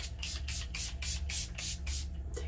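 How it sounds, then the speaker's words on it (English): Several quick bursts of rose water facial mist sprayed onto a face in close succession, each a short airy hiss, fairly loud and close. "I'm going to spray my face first with my rose water"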